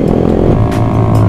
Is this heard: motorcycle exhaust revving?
yes